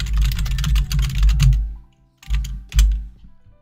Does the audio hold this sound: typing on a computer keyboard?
yes